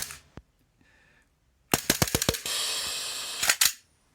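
A Tokyo Marui Glock airsoft pistol running CO2 magazines fires a single snap, then a rapid burst of sharp cracks followed by a sustained gas hiss and two more close shots, loud and near with no talk.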